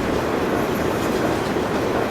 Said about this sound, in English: I couldn't pass up showing off the train